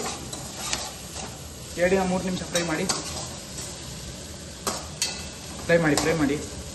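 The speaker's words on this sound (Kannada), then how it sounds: "ನೀಟಾಗಿ ಫ್ರೈ ಮಾಡಿ." Green chilli chicken fries in a pan, a low steady sizzle under repeated scraping and stirring with a utensil against the metal, several bursts of clinks and scrapes spaced through the clip, heard up close in a home kitchen.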